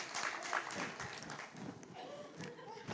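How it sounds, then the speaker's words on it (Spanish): Applause from women in a church congregation, a steady moderate patter of many hands with a voice speaking over it, heard at a fair distance in the room. "Ahora se aplauden las mujeres."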